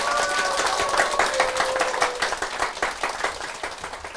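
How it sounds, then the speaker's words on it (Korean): Church congregation giving a big round of applause, dense continuous clapping throughout, fairly loud, with faint tones over it. "여러분 큰 박수 부탁드립니다."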